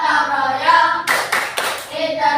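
Children in a classroom lesson sing a chant with a teacher, broken by a short burst of group hand claps in rhythm, with voices resuming after the clapping.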